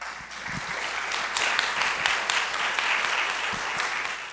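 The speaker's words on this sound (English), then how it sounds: "I really want to applaud Meg Tazinski for her leadership" An audience at a research event on women and economic freedom applauds a speaker: sustained, even clapping from a roomful of people, moderately loud and steady throughout, with no talk over it.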